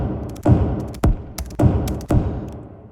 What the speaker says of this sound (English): It's like an atmosphere made from a kick drum.